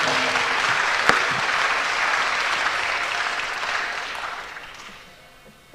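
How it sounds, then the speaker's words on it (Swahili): An audience gives sustained applause for an honourable speaker at a political gathering, the clapping broad and even before fading away near the end. "tupigie mheshimiwa makofi mazuri"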